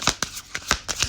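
Tarot cards being shuffled, several separate soft riffling bursts spaced through a short span, close and fairly quiet with no voices.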